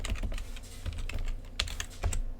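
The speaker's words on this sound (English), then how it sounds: "And you do that by typing connect" Quick, uneven clicking of a computer keyboard as a PowerShell command is typed, close and distinct, with bursts of keystrokes and brief pauses and no talking.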